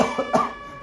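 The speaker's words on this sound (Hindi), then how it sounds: "मैं खांसी से मर रहा हूँ" A man coughs twice in quick, close, fairly loud bursts, then falls quiet.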